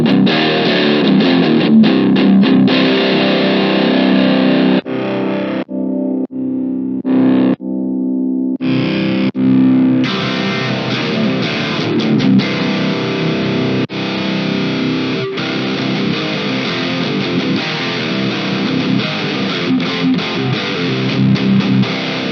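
Electric guitar played through a Harley Benton DNAfx Git Pro multi-effects unit, loud, heavily distorted chording with chorus and echo, the tone shifting between effects with a few brief near-silent gaps around the middle, no talking.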